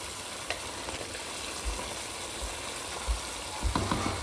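Chicken pieces fry in a pan, a steady close sizzle with occasional soft stirring knocks and scrapes, no voices.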